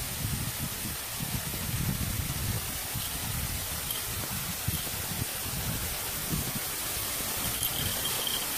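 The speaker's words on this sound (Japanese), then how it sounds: "ここがですね、不動の滝に到着ですね。" Fudo waterfall on Mount Mizugaki, running with high water after rain: a steady, broad roar of falling water, constant and fairly near, with no voices.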